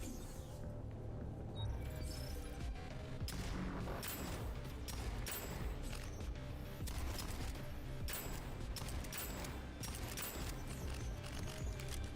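Marksman rifle shots in a sci-fi shooter against robots, sharp close reports fired in irregular succession amid steady game noise and clatter.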